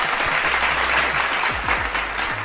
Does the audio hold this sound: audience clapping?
yes